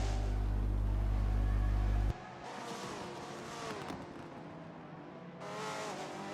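McLaren hypercars racing at night at Circuit of the Americas in a racing game: a loud engine drone that suddenly shifts into a more varied, revving and passing roar, with engine pitch climbing and falling.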